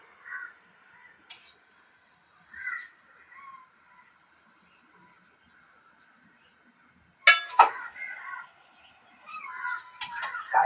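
A cat meows in short, separate calls while fish is being cut nearby, with a few metallic clangs and bursts of sound toward the end.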